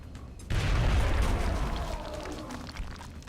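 A grenade detonates in XCOM: Enemy Unknown, one loud, sudden boom with a heavy rumbling tail that slowly fades over a few seconds.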